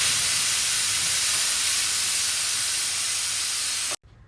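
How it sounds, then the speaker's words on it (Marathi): A pressure cooker with vegetables inside, on the stove, releasing steam in a loud, steady hiss that runs for about four seconds and then cuts off abruptly. "कुकरचं झाकण लावून आपल्याला कुकरची 1 शिट्टी करून घ्यायची आहे"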